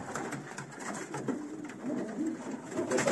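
Pigeons coo softly and steadily nearby, a continuous low burbling over faint background noise.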